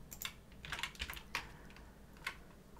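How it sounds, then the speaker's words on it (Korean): Computer keyboard keys pressed while running a C program, a few sharp close clicks in short bursts, with one quick cluster near the start and isolated taps afterwards over a quiet room. "일단 F7 키를 누르고 Ctrl F4를 하게 되면"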